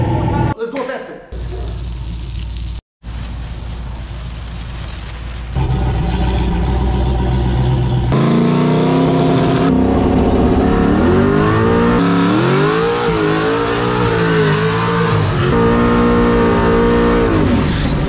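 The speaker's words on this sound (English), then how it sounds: "Let's go see what this car does on a wet surface on slicks where it's not supposed to be done at all." A car fitted with slick racing tyres launches and accelerates hard on a wet surface. The engine revs loudly and climbs steadily in pitch over a long pull, close by, with some voices heard over it.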